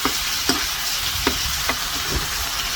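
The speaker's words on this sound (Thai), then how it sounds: "ก็ผัดให้ลูกชิ้นสุกๆก่อนค่ะ" Pork meatballs with a little sugar sizzle steadily in a hot pan while being stir-fried for a Thai eggplant and chili stir-fry, with a few spatula scrapes and stirring clacks cutting through the continuous frying hiss.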